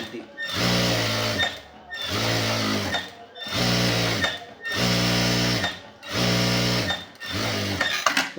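A sewing machine stitches khadi cloth shorts, whirring loudly in six bursts of about a second each, separated by short pauses.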